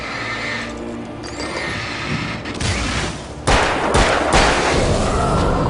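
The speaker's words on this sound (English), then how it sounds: "So I shot him in the chest, then the knee, and then the forehead." Gunshots in the video game Alan Wake: several sharp, close blasts fired in quick succession over a noisy, rumbling background, with no talking.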